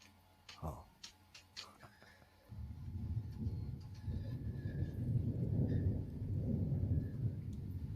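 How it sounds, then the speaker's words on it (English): Thunder rolls in after a few brief knocks, a long low rumble that swells and lingers for several seconds, fairly distant and steady beneath the outdoor air. "It's just thunder, buddy."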